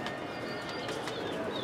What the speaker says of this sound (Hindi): ये देखें पिंजरों में भी कितने बैठे हुए हैं कबूतर